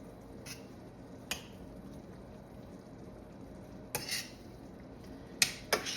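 Beef liver mixed with green seasoning in a pot, heard as a few scattered clinks and scrapes of a utensil against the pot over a quiet background, growing slightly busier toward the end.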